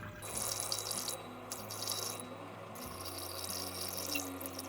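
Water poured carefully out of a container into a vessel while making kurdai, a steady splashing trickle close by with a continuous, slightly gurgling flow that shifts in pitch as the pour changes.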